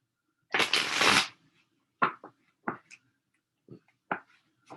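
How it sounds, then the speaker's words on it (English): A deck of tarot cards is shuffled close up, one long riffling burst followed by several short taps and slides of cards in a quiet room. "Okay, that's a good shuffle."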